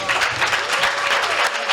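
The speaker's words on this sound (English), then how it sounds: "so that we can applaud you" An awards ceremony audience claps steadily, a dense, loud wash of many hands that holds evenly throughout, with no one speaking over it.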